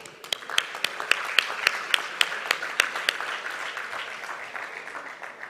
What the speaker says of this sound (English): let's give a big round of applause to all our eminent speakers today.